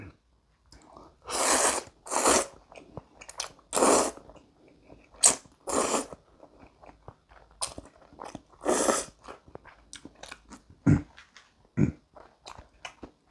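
Shrimp aglio e olio pasta being eaten, with a steady run of close, crisp chewing and biting bursts spread through the stretch, and no talking.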